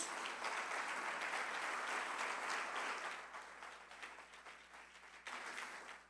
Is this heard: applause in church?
yes